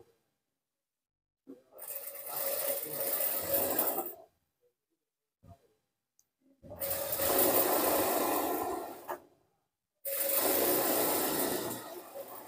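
A sewing machine stitches a folded one-inch hem on a pair of pajamas in three separate runs, each a steady close whir lasting a few seconds with silent pauses between, and no voices.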